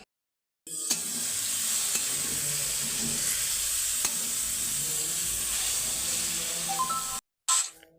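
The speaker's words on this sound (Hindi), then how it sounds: "तो यहाँ बन रही है अपनी सूखी वाली सब्जी" A dry vegetable sabzi cooks in a pan, giving off a steady, close hiss of sizzling and frying with faint stirring scrapes, continuous for several seconds before cutting off.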